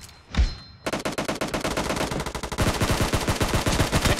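Rapid bursts of automatic gunfire in a BGMI team deathmatch, a brief thump followed by dense, continuous volleys of loud shots that keep rattling without pause.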